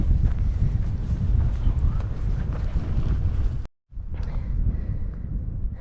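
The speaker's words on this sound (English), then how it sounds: "It's very windy again." Strong wind on an Australian hiking trail buffets the microphone in a loud, continuous roar, cutting out abruptly for a moment before gusting back just as hard.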